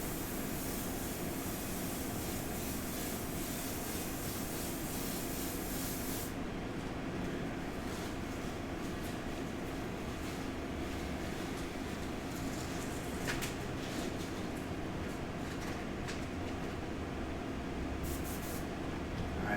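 An airbrush sprays paint in a steady, soft hiss that runs continuously throughout, with a brighter airy edge early on that then settles into a duller, constant spray, no talking.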